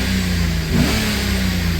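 A Chevy 5.3 V8 idles steadily after a DOD delete, a low even engine hum close by with a brief slight rise in revs partway through, no voices.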